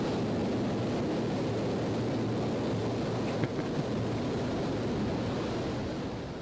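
A jet engine idling on a ground test rig, a steady, dense roar that stays constant throughout with only a couple of faint clicks, no voices.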